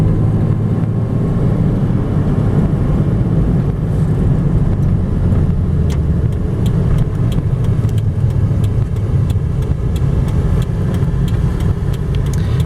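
A 1995 Toyota Pickup 4x4 with a 5-speed manual pulls away in second gear from a rolling stop, its engine droning loudly and steadily as it accelerates, with road and cabin rumble throughout.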